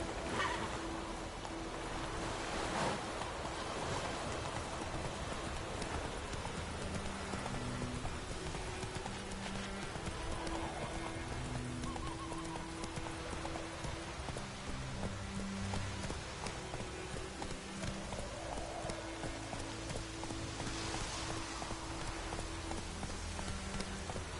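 Roach the horse walks through The Witcher 3 with a steady, even clip-clop of hooves, set against a constant rain-like wash of background ambience.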